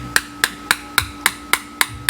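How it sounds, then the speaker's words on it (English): A hammer knocks out a servo pin during a Cadillac 4L65E transmission teardown, eight sharp metallic taps in a steady, even rhythm, close and alone. "hammer and push it out of there like that"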